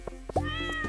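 A cat in the farming game Stardew Valley gives a single drawn-out meow, rising then holding steady, clear and close above a quiet game backdrop.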